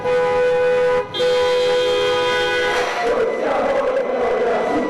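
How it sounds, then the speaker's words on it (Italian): Sustained car horns blare loudly for several seconds in a Treviso street, cutting off briefly, then give way to a noisy crowd of cheering sports fans. "suonano i clacson per le strade"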